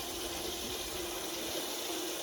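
A toilet flushes into a water fountain tank, giving a continuous loud rush and gush of running water that stays even for the whole stretch, with no voices.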